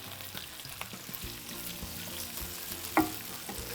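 Broccoli stirred in a hot frying pan sizzles steadily up close, with scraping and clacking of the utensil against the pan and a sharper knock near the end.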